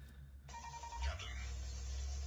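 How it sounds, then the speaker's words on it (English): A phone alert tone rings out from a handset during a Marvel Champions card game session, a short electronic chime over low background hum, with talk nearby. "Sorry about my phone message there."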